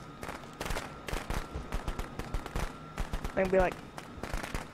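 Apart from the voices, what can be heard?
firecrackers going off in Friday the 13th video game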